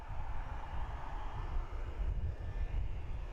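Airliner cockpit ambience from the FS Realistic add-on in MSFS 2024, a continuous engine drone and low rumble holding steady with no one talking.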